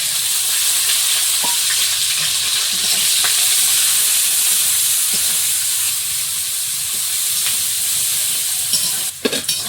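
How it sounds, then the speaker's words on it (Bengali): Spices fry with bay leaf, chopped onion and garlic paste in a loud, steady, close hiss of sizzling oil, with a few faint utensil taps and a brief clatter near the end. "মশলাটা ভেজে নিয়েছি"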